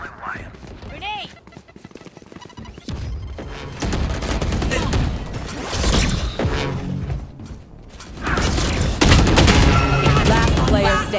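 Gunfire in the Valorant video game, loud bursts of shots and clattering effects building through the second half, mixed with game sounds and voices talking over it.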